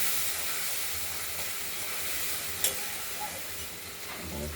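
A ground masala paste mixed with turmeric is sautéed in a pan for a boal fish curry with potatoes and stems, giving a soft, steady sizzle and hiss with a faint stirring scrape and one brief clink.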